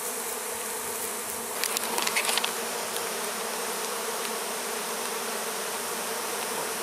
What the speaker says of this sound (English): there's a lot of bees around you suddenly